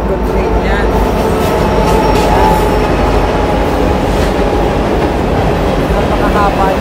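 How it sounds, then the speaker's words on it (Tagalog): A long cargo train rolls past at Morant Curve with a loud, continuous rumble and rattle of wagons, wheels clicking and faint squeals, while people talk over it. "So cargo train yan."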